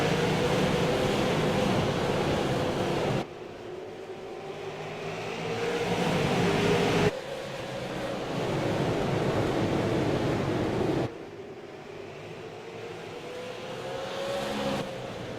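Stock race cars roar around South Boston Speedway on a green-flag restart, a loud, continuous engine drone that swells and recedes as the pack circles, with abrupt jumps in level and no talking.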